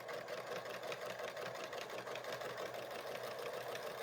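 A sewing machine stitches a hanging sleeve onto a quilt with its binding already attached, humming in a steady, even mechanical drone with a fast stitching pulse, moderately quiet and continuous, with no talking.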